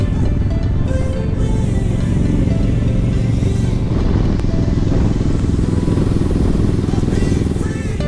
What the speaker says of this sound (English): Riding motorcycles is one of my favorite pastimes.